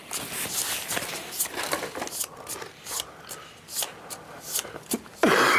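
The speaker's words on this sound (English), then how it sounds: "Discarded sky shards are shuffled back into the delve deck." Cards from the delve deck of an Elder Scrolls board game being shuffled by hand at a table, a soft, close run of riffling and sliding taps with a louder knock at the end.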